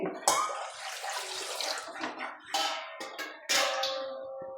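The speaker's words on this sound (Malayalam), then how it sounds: "പാല് ഒഴിച്ച് കൊടുക്കുക." Milk pours into a pan while cooking loaded fries, a splashing, gurgling flow in several uneven bursts close by, with brief pauses between pours.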